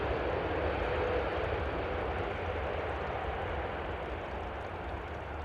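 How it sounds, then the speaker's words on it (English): An Airbus A330 cargo jet arriving at Amsterdam Schiphol from Doha gives a steady, faint, distant roar of engines that holds evenly for several seconds, with no voices. "Next up will be an A330 from Mascargo, if I'm not mistaken, arriving from Doha"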